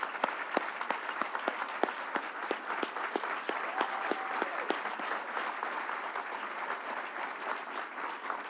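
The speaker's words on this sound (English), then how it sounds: "I think we need to give the governor another standing round of applause" Standing ovation from a crowd at a public event where the New York governor announces budget investments in the Finger Lakes region, with dense continuous clapping and a few sharp individual claps on top, sustained and even throughout.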